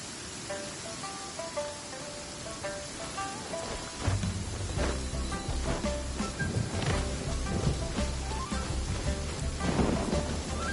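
Steady rain with rolling thunder in Genshin Impact. A soft melody plays at first, then heavy, close downpour noise and deep rumbles fill the rest.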